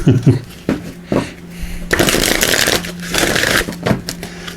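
A deck of numerology guidance cards gets shuffled by hand, giving bursts of quick, crisp riffling close to the mic with brief taps between them and a faint background hum.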